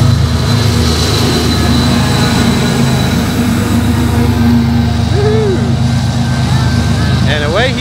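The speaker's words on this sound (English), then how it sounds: "It's got a push engine on the end." A long freight train with a pusher locomotive at the rear rolls past in a small Texas town, a steady loud rumble of wheels and engine throughout, with a brief rising squeal near the end and people talking over it.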